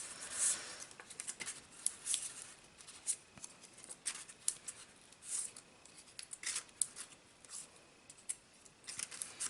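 Scissors snip paper pieces for a handmade greeting card, producing a quiet, irregular series of crisp cuts and rustles, all close up with no talking.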